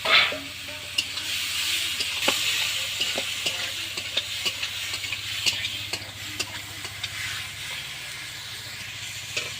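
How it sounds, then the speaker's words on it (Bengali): Potatoes and softened tomatoes sautéing in a pan, a continuous close sizzle and hiss broken by frequent clacking stirs of the spatula against the pan, with no talk. "আলুগুলো দিয়ে দেবো একটু কষে নেবো"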